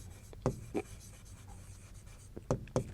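A teacher writes chemistry notes, producing short, close pen or marker strokes that come in quick pairs separated by quiet pauses.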